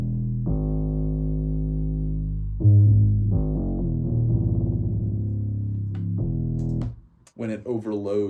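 Moog synthesizer playing a deep bass preset called front bass, sustained low notes that shift pitch and swell louder midway, clean and alone before a voice starts talking near the end.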